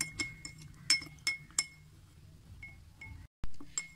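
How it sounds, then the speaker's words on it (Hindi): Aloe vera gel being mixed into homemade hand sanitizer in a glass container, heard as faint, bright glassy clinks and taps from a spoon at irregular intervals, close but quiet, with no speech. "इसे डालने के बाद अच्छी तरह मिक्स कर लेंगे।"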